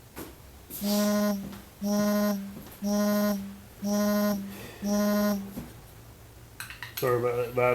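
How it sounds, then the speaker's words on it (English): Phone vibrating nearby during an AR-15 gas block swap in a garage, buzzing in five even, steady pulses about a second apart, followed by faint handling noises. "Sorry about that vibrating noise,"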